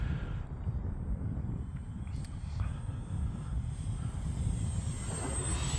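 An Arrows T28 RC model airplane flies at scale speed outdoors, its propeller engine droning steadily at a moderate distance with wind buffeting the microphone throughout.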